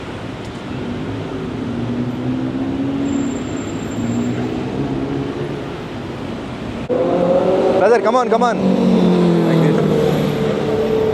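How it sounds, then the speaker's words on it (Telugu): A Bangkok number 74 city bus pulls up and comes to a stop in street traffic, with a steady engine rumble and a brief squeal of brakes near the end, while someone talks close by. "బస్సు ఆగిపోయింది డెబ్బై నాలుగో నెంబర్ బస్సు నార్మల్ బస్సు"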